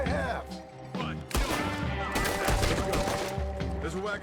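Gunfire in the western video game Red Dead Redemption 2, with rapid cracking shots over a sustained musical score, moderately loud and mixed with other game sounds; people talk in the background.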